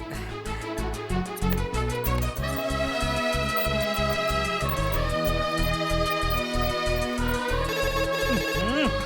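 A telephone ringtone plays continuously, a repeating melodic electronic tune with steady rhythmic pulses, moderately loud and without talk.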